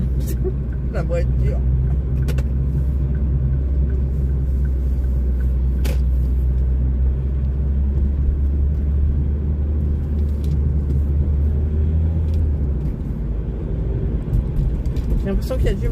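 A car drives along, heard from inside as a steady, loud low engine and road rumble with occasional faint clicks and knocks from the cabin.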